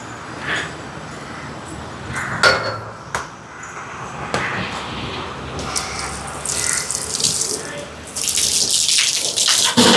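Water runs from a tap into a cooking pot in a Sri Lankan home kitchen, a steady hiss that swells and grows brighter as the pot fills, with a few sharp clanks of metal along the way.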